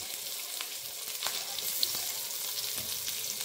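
Surmai (kingfish) pieces fry in a pan of hot oil with a steady, close sizzle and a few faint stirring scrapes. No one speaks.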